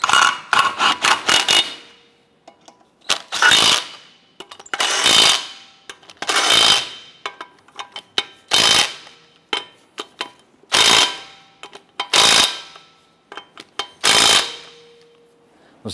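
Lug nuts on a 2007-2012 Nissan Versa wheel being run down with a wrench or impact gun, heard as repeated loud, sharp bursts of metallic rattling and ratcheting separated by short pauses, close up and without talk.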